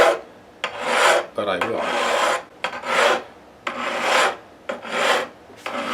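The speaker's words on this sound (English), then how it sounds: "You can hear that file just sort of gliss along those frets, very little resistance" Metal fret file rasping lightly along the frets of a Fender American Stratocaster, in repeated smooth strokes of about a second each with short pauses between, close and steady, with a few brief spoken words.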